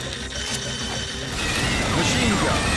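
Weapon reload in the arcade shooter Time Crisis 4 on PS3: a rapid mechanical clatter of ratcheting, gear-like clicks over a busy, loud game soundtrack, with a short bright metallic sweep near the end.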